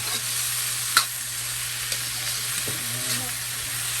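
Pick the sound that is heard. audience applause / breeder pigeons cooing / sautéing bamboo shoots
sautéing bamboo shoots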